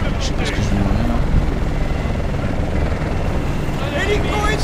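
A troop transport helicopter in the video game Battlefield Bad Company 2 thrums loud and close with a steady low rotor roar, while a player talks over the din.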